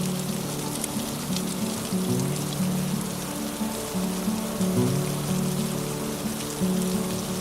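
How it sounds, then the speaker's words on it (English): Rain falls steadily around a sheltered camp kitchen on Beausoleil Island, a constant close hiss and patter of drops striking surfaces, with a low steady hum running beneath. "Now that the rain has arrived, we can wait it out in the comfort of the camp kitchen."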